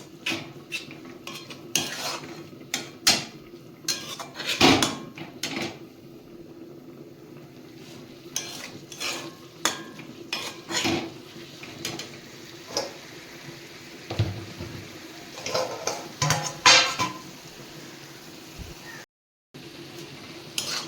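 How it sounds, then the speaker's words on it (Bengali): Spinach being stirred with salt and turmeric in a pan, with repeated clinks and scrapes of a utensil against metal and soft stirring noises in bursts, close and moderately loud, with no talk. "লবণ আর হলুদটা দিয়ে ভালোভাবে মিশিয়ে নিয়েছি"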